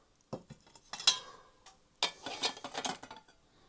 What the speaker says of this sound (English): the best way is just to put the pot on it